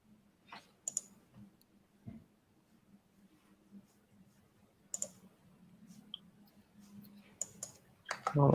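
Sharp mouse clicks, several scattered single clicks and a few quick pairs, sound close but quiet over a low steady hum, with soft background noise between them.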